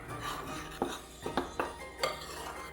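Dry ingredients for Danish Pebernødder cookie dough, spiced with ground cloves and baking powder, are stirred in a bowl, with five soft scraping knocks of a utensil against the bowl over a quiet background.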